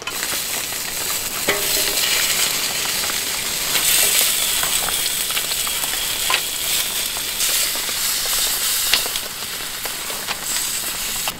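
Green onion and onion sizzle and get stirred with sundubu sauce in a pot over medium-low heat at a rainy camp, a steady close frying hiss with scattered scraping stirs.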